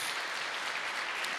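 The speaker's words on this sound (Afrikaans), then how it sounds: "Geef vir haar laaste hande klap net" Steady applause from a church congregation during a birthday celebration, a dense even patter of many hands clapping at moderate loudness without pause.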